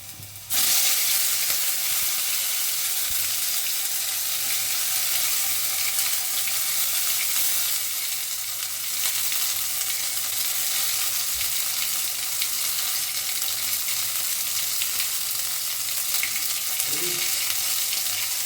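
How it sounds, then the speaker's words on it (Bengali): Ground leaf paste sizzles steadily in hot oil in a pan over a low gas flame, a continuous close frying hiss with a brief clatter near the end. "এই অবস্থায় আমি গ্যাসটাকে সিম করে পাতাটাকে এর মধ্যে দিয়ে দেবো, বাটা পাতাটাকে।"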